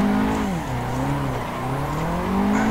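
A Nissan 180SX in Street Heroes trim drifts in Assetto Corsa, its engine note loud and continuous, rising and dipping as throttle comes off and back on, with a faint tire squeal over it.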